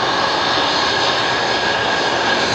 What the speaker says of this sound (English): they're just going to have a nice rotation, smooth takeoff.